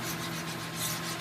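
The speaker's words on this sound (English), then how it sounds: "or sanding that broken corner" Soft, continuous rubbing rasp of sandpaper worked by hand over wood, steady and fairly quiet.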